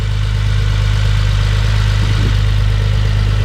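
A car engine idles steadily and loudly after bigger E85 fuel injectors have been fitted, a constant low rumble that sounds slightly choked with no revving.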